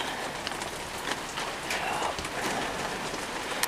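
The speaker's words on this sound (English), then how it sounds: "Every time it fucking rains." Steady rain pours down outdoors onto surfaces near a home, a dense continuous hiss with scattered drip and patter accents, close and fairly loud throughout.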